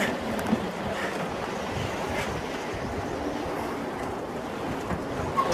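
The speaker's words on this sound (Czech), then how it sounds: "To jsou vlny jak na moři." Choppy waves on a lake slap and wash against a fishing boat in windy, rough weather, a constant heavy rumbling churn with no voices.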